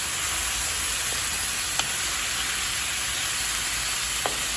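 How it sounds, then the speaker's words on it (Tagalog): Unripe jackfruit sautéing in a pan for ginataang langka, with a steady bright sizzle and hiss throughout, a couple of faint utensil clinks, and no talking. "Gigisa ko muna siya ng maayos."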